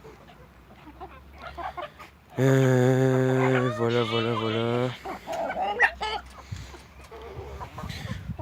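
Hens on a poultry farm, a loud drawn-out squawking call from one bird close by, followed by scattered clucks and rustling while a person speaks briefly.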